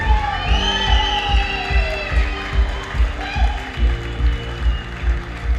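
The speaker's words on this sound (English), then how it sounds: "how about another big round of applause for the newlyweds, Mr. and Mrs. Kyle Livingood." Wedding guests cheering and applauding the newlyweds at a reception, loud crowd whoops and shouts over rhythmic clapping and a pulsing beat of music, with voices calling out throughout.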